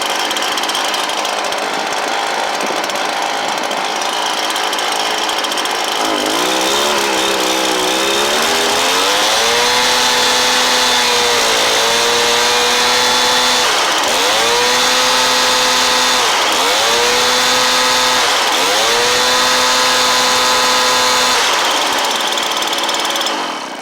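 A Stihl BR430 backpack blower engine, freshly fitted with a Hipa replacement carburetor, runs loud and close, revving up and dropping back several times in repeated surges over a steady idle.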